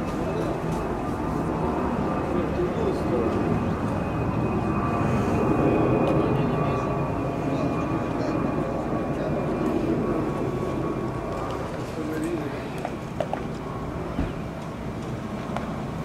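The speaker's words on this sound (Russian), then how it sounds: "Что-то он траекторию изменил. Я имею в виду самолет." An airplane flies overhead with a broad, steady engine drone that holds at a moderate level and fades slightly near the end, while someone talks quietly under it.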